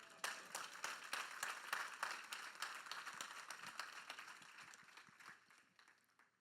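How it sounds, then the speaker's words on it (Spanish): Encouraging applause from an audience at an evening leadership event held for a church organization's 35th anniversary: steady clapping from a room full of people, fairly faint and diffuse, gradually thinning toward the end, with no voices over it. "ese aplauso de ánimo para ella"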